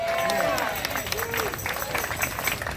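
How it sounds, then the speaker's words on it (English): A crowd at an outdoor protest rally against an MTA substation on 28th Street claps and cheers, with voices and chatter mixed through the applause. "Let's give him a round of applause."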